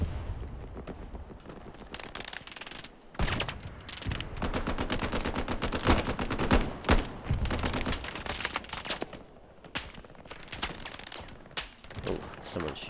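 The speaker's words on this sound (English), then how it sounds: "someone's shooting at us." Machine gun fire in Hell Let Loose during a British El Alamein battle: dense, rapid bursts of gunfire crackle and rattle close by, with short pauses, under occasional talk.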